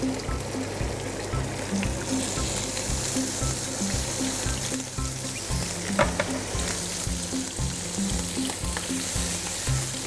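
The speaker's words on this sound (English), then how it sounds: "The oil is nice and hot, so the meat's going to go in nice and gently." Beef bacon strips sizzling in hot garlic oil in a pan, a loud, steady close crackle and hiss running throughout with a regular low rhythmic thump underneath.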